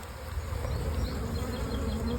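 Honey bees buzzing steadily from an open hive during colony inspection, a dense continuous drone close to the microphone with no talk.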